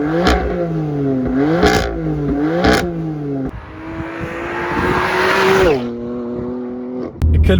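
A BMW M4 F82 revs hard with aggressive, abrupt gear shifts, the engine note climbing and snapping between gears in several quick pulls, loud and close, followed by a sustained higher rev and a sharp pop near the end.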